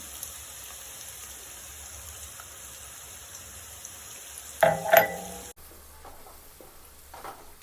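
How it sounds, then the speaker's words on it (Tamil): Onions with turmeric frying in a pan for a South Indian fish gravy, a soft, even sizzle throughout, broken near the middle by a couple of louder scraping stirs and a brief clatter before the sizzle resumes. "வெங்காயம் போட்டு நல்லா வதக்கிட்டோம். மஞ்சள் கூட போட்டுடலாம்."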